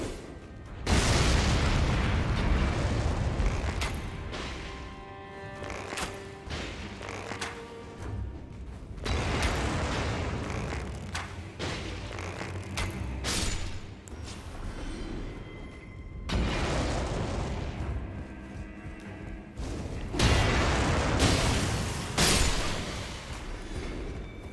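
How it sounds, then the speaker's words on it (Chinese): Barrels explode in the video game Elden Ring, with heavy booming blasts recurring across the stretch and dense rumbling in between, loud and alone with no talk. "你看到这些桶的话，如果你有火箭可以打掉，会爆炸的"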